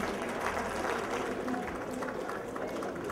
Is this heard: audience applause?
yes